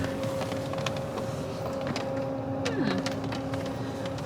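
A D&S Odyssey Soft Touch automatic car wash gantry running at Bolt Wash in Taylorsville, Utah, with a steady motor hum, one tone that bends downward partway through, and light scattered clatter, without talk.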